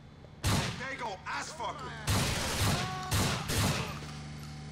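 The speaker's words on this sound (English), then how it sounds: "This shotgun is OP" Shotgun fire in Grand Theft Auto: Episodes from Liberty City, several loud booming blasts at irregular intervals over a constant low engine-like drone, with shouted voices in between.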